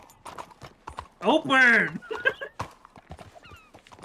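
Horse hooves clip-clop in the Western video game Red Dead, a rapid patter running under loud, excited talking, with a long, tonal whinny-like cry partway through.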